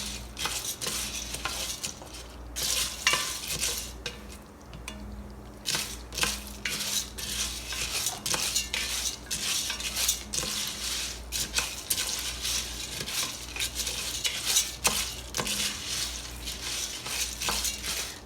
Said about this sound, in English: you want to stir this occasionally because you do not want this to burn and you want it to cook evenly